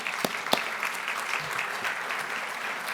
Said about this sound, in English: We could give them another round of applause.